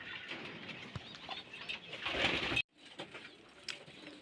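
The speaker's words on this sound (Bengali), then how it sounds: "সেখান থেকে দেখুন পায়রা দেখুন সব ফিট" Pigeons at a watering spot on a scorching hot day give soft, low coos amid faint rustling and wing movement, fairly quiet and close, with a brief pause before the activity resumes.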